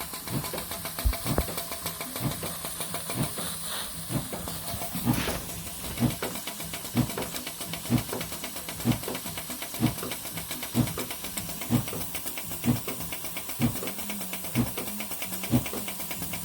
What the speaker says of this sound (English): So this took a while to adjust this brand new steam pump.